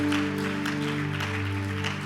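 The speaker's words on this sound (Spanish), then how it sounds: "¿Puede darle un fuerte aplauso de agradecimiento al Señor?" A church congregation applauds steadily, a dense wash of clapping under a sustained musical chord, continuous and fairly close.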